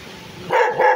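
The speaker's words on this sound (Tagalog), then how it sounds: "Marami silang aso." Several dogs bark at a house, two sharp, close barks in quick succession over faint background noise.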